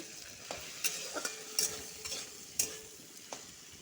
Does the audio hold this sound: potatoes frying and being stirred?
yes